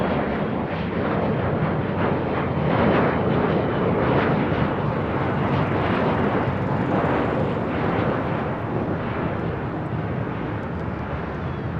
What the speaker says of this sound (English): the Queen making that left-hand turn onto Alpha 8